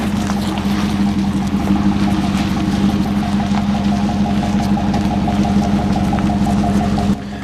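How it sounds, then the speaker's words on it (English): A 2013 GMC Sierra Denali's GM V8 engine idles with a steady, loud low rumble and even throb, cutting off abruptly near the end. "GM knows how to build a V8, and it just sounds the way it should sound"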